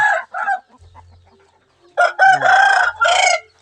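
Rooster crowing nearby, loud and close: short clucks first, then a long drawn-out crow after a brief pause, with faint low background noise.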